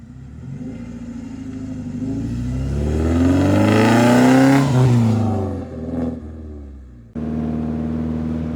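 A loud Morgan Plus 4 classic sports car engine revs up, its pitch climbing steadily before easing off, then settling into a throaty idle close by.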